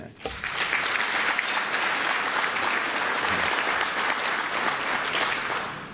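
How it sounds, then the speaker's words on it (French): Sustained applause from a large audience at Forum Africa 2012, a dense, steady clatter of many hands holding at even loudness for several seconds with no talk over it. "Je voudrais vraiment qu'on l'applaudisse."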